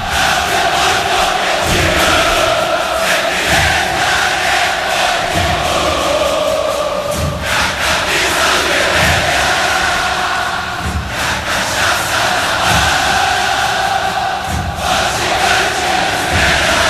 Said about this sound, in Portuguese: E a torcida colorada tenta incentivar, contagiar o time.